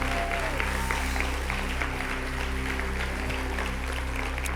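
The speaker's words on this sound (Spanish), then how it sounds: "Dale un aplauso al Señor." A church congregation claps for the Lord at a Christian conference service, sustained applause mixed with crowd voices over a steady electronic hum and a held organ-like drone.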